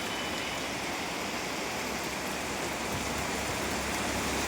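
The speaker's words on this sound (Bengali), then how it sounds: "প্রচুর বৃষ্টি হচ্ছে খুব বৃষ্টি" Heavy rain pours steadily in the town of Nandigram, near a roadside bus stand, a dense unbroken hiss that fills the whole clip at an even, loud level with no voices.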